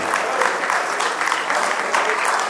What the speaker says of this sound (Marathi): टाळ्यांचा आवाज चालू ठेवा